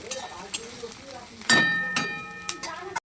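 Sliced onions frying with a little salt in a pan during home cooking, a soft steady sizzle with occasional stirring scrapes and a louder burst midway, no talk over it.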